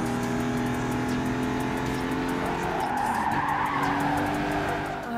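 Race car tires skidding and scraping after riding up a curb in Gran Turismo 5, a loud continuous engine drone with a smeared squealing slide rising midway, alone without talk.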